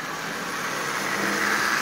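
A Marx 490 tilt coupler toy train set motor runs in a steady, even whir that stays at a constant low level throughout, close by and with no talking.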